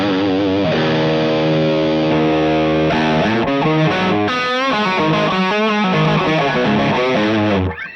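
Electric guitar played through a TONEX pedal modelling a Dumble amp tone, loud and driven, with sustained chords giving way to expressive bent lead notes before cutting off, no talking.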